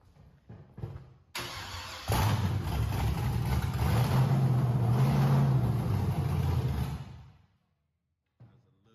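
1996 Impala SS with a 6.2 engine on open headers cranks and fires up, roaring loud and close with a rough burbling idle for several seconds, then cuts off into silence.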